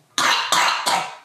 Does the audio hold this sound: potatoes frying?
no